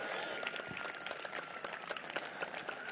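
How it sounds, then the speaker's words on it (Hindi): A church congregation claps at a morning worship service, quick uneven hand claps that are moderately loud, with voices in the background throughout. "ताली बजाएंगे,"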